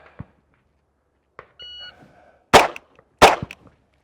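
Two sharp, loud gunshots crack about a second apart on a shooting range, each with a short decay, following a short electronic shot-timer beep and a few faint clicks; no talking.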